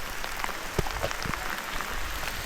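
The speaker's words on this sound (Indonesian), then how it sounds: "karena hujan lumayan deras, aku nggak bisa take video banyak di sini" Heavy rain falls on a mountain top at Bukit Cencono in Pacet, Mojokerto, a dense, even patter with scattered sharper drops, fairly quiet and with no talking.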